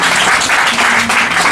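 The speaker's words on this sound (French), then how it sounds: "sous vos applaudissements, s'il vous plaît" A brief burst of crowd applause at a fan club launch ceremony for a Congolese band, thick and even clapping with no voice on top.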